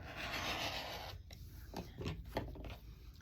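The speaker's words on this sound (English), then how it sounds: "what I'm going to do is I'm just going to go ahead and cut right on the line that I drew" Quilt fabric for an Ohio star block cut along a drawn line: a close rasping, rubbing cut followed by a few short, crisp snips, quiet and with no talk.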